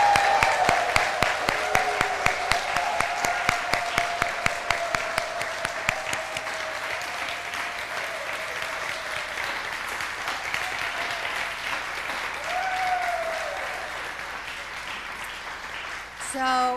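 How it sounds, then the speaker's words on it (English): Wild applause from a church service congregation honoring a group of graduates, dense steady clapping that gradually thins, with a few whistles and voices rising over it before fading out. "Now, wild applause for these graduates."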